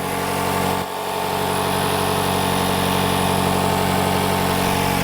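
A Mazda car's engine runs at a steady idle with a constant hum and light vibration, heard close and alone while air is bled from the cooling system.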